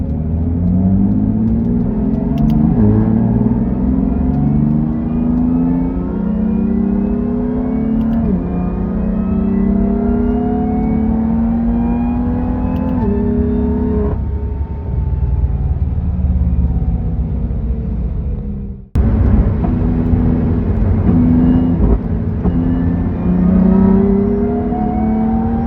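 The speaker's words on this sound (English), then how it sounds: "so you guys can kind of hear what that diff whine sounds like from the solid mount rear bushings" BMW F80 M3 track build with solid-mount rear differential bushings, driven on a street: a loud, continuous engine drone rising through repeated accelerations, with a whining differential tone climbing alongside it and a brief cut near the end.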